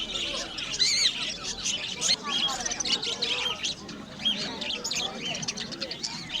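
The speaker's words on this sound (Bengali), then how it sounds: "এখানে অনেক বাজিগার রয়েছে" Many budgerigars and lovebirds at a bird market chirp and twitter constantly in a busy chorus, with people talking faintly in the background.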